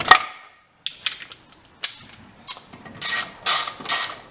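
A ratchet snugs bolts on a Dodge Stealth 3000GT input bearing housing, giving sharp close metallic clicks and clacks in irregular bursts, some strokes longer and buzzier toward the end.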